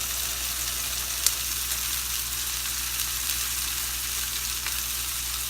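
Steaks sizzle on a hot Himalayan salt plate after the stove is switched off, a steady close hiss and crackle with only a couple of faint pops and no voices.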